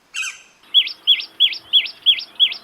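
Yellow-naped woodpecker calling: one harsh opening note followed by six evenly spaced, sharp rising chirps, loud and close with no other sounds.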